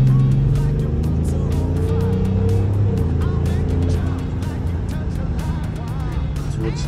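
BMW X5 with air suspension accelerating hard in sport mode on a public road: a loud, rising engine drone heard from inside the cabin, with tire and road noise fading slightly toward the end.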